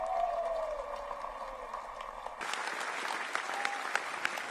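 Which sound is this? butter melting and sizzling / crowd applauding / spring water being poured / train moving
crowd applauding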